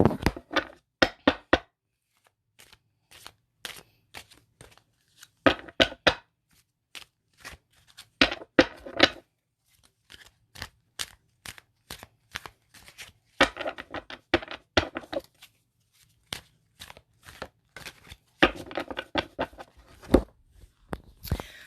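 Tarot cards are shuffled by hand close up in repeated short, crisp riffling bursts separated by quiet gaps. The bursts grow busier and more frequent toward the end.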